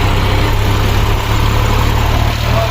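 A Massey 7250 tractor fitted with a modified exhaust runs loud and steady nearby, a deep, continuous engine rumble with a constant low vibration throughout and no talking.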